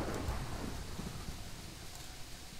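Steady rain with low thunder rumbling underneath in a Minecraft thunderstorm, a continuous dense wash of sound at a fairly quiet level.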